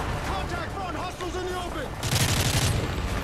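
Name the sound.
weapons firing in Call of Duty: Modern Warfare 3 video game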